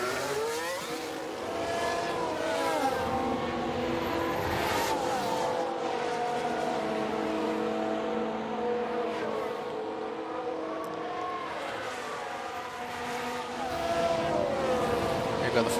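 Several Formula 1 cars in F1 Manager 2022 sweep past on track, engines rising and falling in pitch as they pass, steady and fairly loud throughout with a voice talking over the racing.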